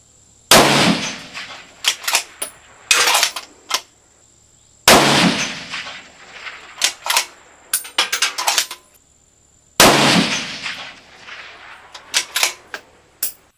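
A rifle fitted with a TMB barrel tuner fires Winchester ammunition three times, about five seconds apart. Each sharp, loud crack is followed by a ringing decay and scattered metallic clinks, with no voices.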